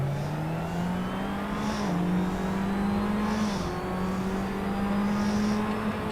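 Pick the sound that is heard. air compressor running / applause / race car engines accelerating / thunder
race car engines accelerating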